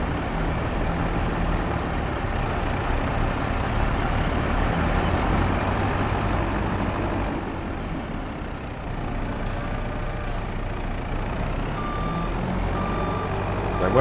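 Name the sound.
truck reversing beeps and engine, video game Hills of Tuscany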